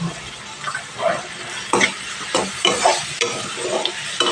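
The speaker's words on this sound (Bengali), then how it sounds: "এইভাবে নাড়াচাড়া করে তিন চার মিনিট ধরে ভেজে নিতে হবে" Bitter gourd slices with salt and turmeric sizzle in a hot pan while a spoon scrapes and stirs them in repeated strokes, close and steady.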